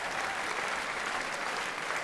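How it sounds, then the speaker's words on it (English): A comedy show audience applauds with dense, steady clapping that fills the room without pause. "You're clapping because you're going, it's true"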